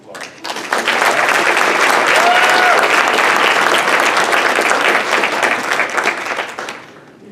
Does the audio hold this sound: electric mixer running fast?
no